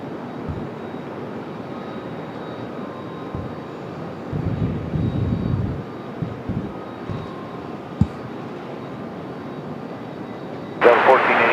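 A 17-year-old CRJ 900LR jet airliner takes off at Raleigh-Durham airport, a broad, distant engine roar that holds steady, swells in the middle and ends in a brief sharp burst of hiss.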